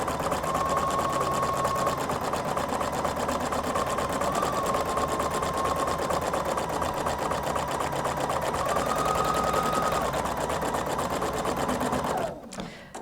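Husqvarna Viking Designer Brilliance 80 sewing machine stitching a placement stitch: a fast, steady mechanical whir with a rapid needle rattle, close and continuous for about twelve seconds before it stops abruptly.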